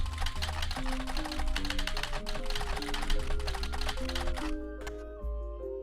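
Rapid keyboard typing in the mystery video game The Roottrees are Dead, a fast run of crisp clicking keystrokes over a background of tonal game music, ending with a brief pause before a final note.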